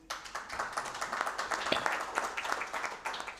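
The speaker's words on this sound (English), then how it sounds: "A warm round of applause for the ambassadors" An audience at a national policy conference applauds ambassadors. The clapping is moderate and fairly close, with individual hand claps audible inside a steady wash that continues throughout.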